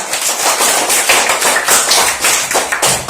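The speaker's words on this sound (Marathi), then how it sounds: "ते यांच्यासाठी एकदा जोरदार टाळ्या वाजवा" First-grade students and others in a classroom clap loudly together, a dense steady patter of many hands lasting a few seconds with no talk over it.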